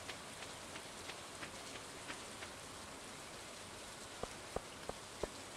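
Steady rain falls in the video game Stardew Valley, a soft continuous hiss with faint patters, and a few sharper drip-like ticks near the end, with no music or talk.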